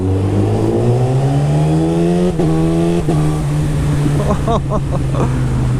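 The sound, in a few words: motorcycle with decat exhaust revving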